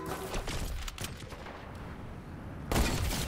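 Gunfire in Fortnite, a rapid crackle of shots and impacts with a loud burst near the end.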